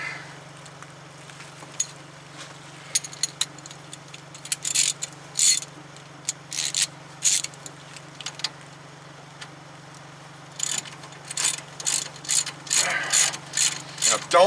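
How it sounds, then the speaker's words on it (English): A ratchet loosens a ball joint nut on the front suspension of a 2009 Toyota Tacoma 4WD, with close, loud bursts of rapid clicking that start and stop repeatedly over a steady low mechanical hum. "we're just gonna take the nut off"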